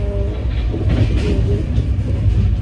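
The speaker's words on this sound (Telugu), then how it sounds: "ట్రైన్ అయితే చాలా పర్ఫెక్ట్గా వెళ్తుంది" Low rumbling of a train moving along the tracks, a steady rolling drone with faint rattles, heard from inside a carriage.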